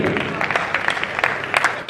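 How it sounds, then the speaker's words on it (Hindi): Audience clapping for poet Rashmi Kiran at a Hindi poetry gathering, a brief burst of applause mixed with voices and crowd noise throughout. "जोरदार तालियां बजा दीजिए रश्मि किरण के लिए।"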